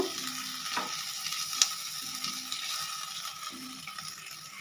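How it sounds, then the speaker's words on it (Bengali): Half-fried onion with salt and turmeric stirred in a pan, a soft steady sizzle with occasional spatula scrapes and one small clink, quiet and close, no voices. "হাফ ভাজা হয়ে আসলেই এর মধ্যে দিয়ে দেবো এক টেবিল স্পুন লবণ এক টেবিল স্পুন হলুদ গুঁড়ো দিয়ে ভালোভাবে মিশিয়ে নেব"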